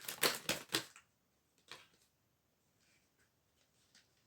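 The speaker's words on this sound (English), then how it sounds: "I'm gonna shuffle" Tarot cards riffle in a quick burst of crisp snaps, followed by a single shorter shuffle and then faint, soft card rustles in a quiet room.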